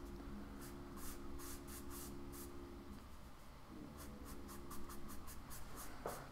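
Sponge rubbed over soft pan pastels on paper, a quiet series of short, rhythmic scrubbing strokes close up, no voices.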